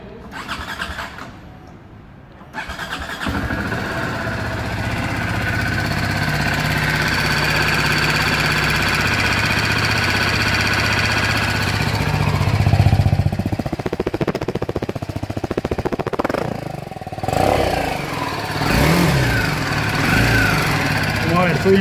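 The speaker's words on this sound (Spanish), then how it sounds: "Les vamos a prender la moto para que la escuchen." A 2019 BMW G 310 GS motorcycle's single-cylinder engine cranks and fires, then settles into a steady, close idle with a slight swell midway; a brief pause and voices follow near the end.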